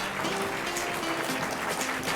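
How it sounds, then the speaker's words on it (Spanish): Sustained applause from the audience for the winners at the Premio Copé 2024 award ceremony, a dense, even wash of clapping with a low steady hum underneath. "queremos escuchar un fuerte aplauso para todos nuestros ganadores esta noche"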